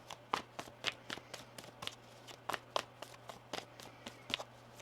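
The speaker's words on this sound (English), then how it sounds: "One more shuffle here." A deck of tarot cards being shuffled by hand, quick papery riffles and taps in an uneven rhythm, close and quiet over a faint steady hum.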